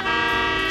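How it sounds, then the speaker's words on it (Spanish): A car horn honks in a street, one loud sustained toot lasting under a second, close and alone. "¡Bocinazos!"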